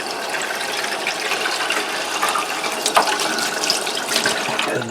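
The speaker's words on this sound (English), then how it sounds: "I'm going to fill up this little bowl right here" Cold water from a kitchen tap runs into a small bowl as a steady, close-up rushing splash, with faint clinks and rattles mixed into the flow.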